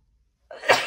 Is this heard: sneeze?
yes